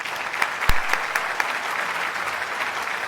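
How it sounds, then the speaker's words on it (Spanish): Conference audience applauding to welcome a keynote speaker in a hall, a sustained even wash of clapping from many hands with a few sharper near claps. "Lo recibimos con un fuerte aplauso."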